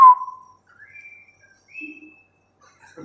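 Someone whistles in a quiet room, a few sparse, thin tones that rise and hold briefly after a short sharp opening note, with silence between them.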